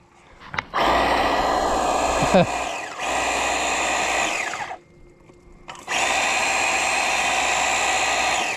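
A Dewalt 20V cordless power washer, running with a soap attachment fitted in place of the wand, gives a loud, steady whirring roar in two long runs, cut off by a brief pause in the middle.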